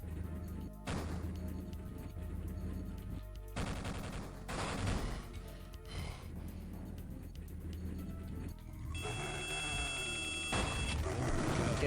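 Gunfire in Duke Nukem 3D, a series of separate loud blasts and crashing impacts spread over several seconds amid constant game noise, ending with a brighter, sustained metallic ring.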